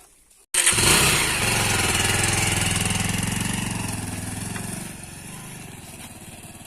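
A motorcycle engine abruptly fires up, loud and close, then settles into a steady, throbbing idle that gradually fades quieter.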